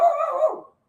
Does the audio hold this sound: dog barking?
yes